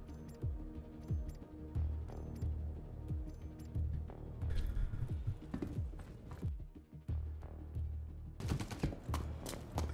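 Gunfire from guards shooting in the video game Star Citizen: irregular volleys of sharp shots and thumping impacts, some clustered in rapid bursts, moderately loud within the game audio, no talking.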